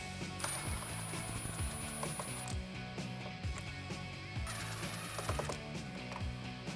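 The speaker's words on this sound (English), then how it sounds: "now we're gonna remove the 8 bolts on the top of the bumper cover" A hand ratchet works on the bolts along the top of a 2018–2019 Mustang bumper cover, giving steady close clicking strokes in a continuous rhythm against a constant background hum, with no talking.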